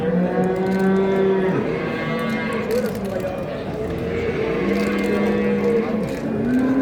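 Cattle low repeatedly at a large livestock market in Çorum, Turkey, with long, loud moos from nearby cows overlapping amid general crowd noise.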